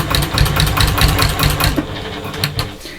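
A sewing machine fitted with a walking foot runs a short back stitch on a lunch box, a loud, close, rapid mechanical whirr that rises and pauses in brief bursts.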